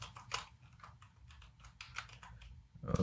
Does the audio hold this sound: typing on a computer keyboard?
yes